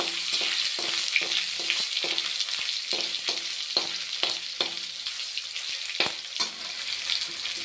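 Pieces of young mutton dropped into a hot pan with oil and cardamom, sizzling steadily and fairly loudly, with a string of sharp close knocks and scrapes from the stirring spoon and no voices.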